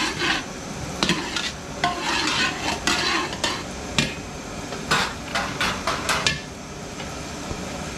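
Garlic and onion fry in butter with a little oil in a pan, a steady sizzle punctuated by repeated rhythmic scrapes and knocks of a spatula stirring close by.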